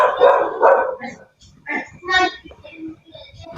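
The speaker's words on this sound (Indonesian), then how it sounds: "tengah malam masih menggonggong dia" A dog barks at night in a series of close, loud yips and barks, with people talking over and between them.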